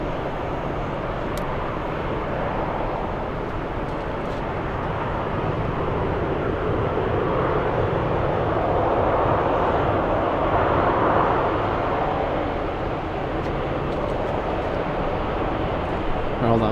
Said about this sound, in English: Etihad flying to Abu Dhabi.